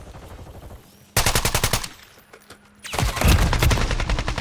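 Bursts of automatic gunfire from a Modern Warfare first-person shooter, loud rapid volleys that stop briefly and then return in a denser, heavier stretch near the close.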